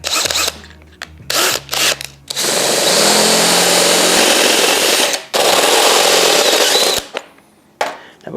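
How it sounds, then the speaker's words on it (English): Power drill driving a step bit through metal to enlarge two small pilot holes for a bolt-on fender and sissy bar kit on a Honda Shadow motorcycle; loud, sustained grinding whir in several bursts, with short stops between, and no talk. "So now you've got 2 little pilot holes. You're gonna bust out that step bit."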